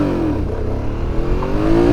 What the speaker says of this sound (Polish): w motocyklach z większą mocą potrzeba zdecydowanie więcej finezji i wyczucia, by wystartować jak najmocniej